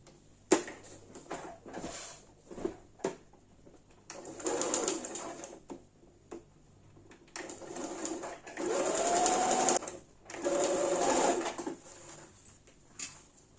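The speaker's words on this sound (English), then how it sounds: "I'm going to go ahead and sew all the way round" A sewing machine stitches around a fabric sleep mask in several bursts of rapid mechanical whirring, some several seconds long, separated by pauses with small handling clicks and rustles, heard up close.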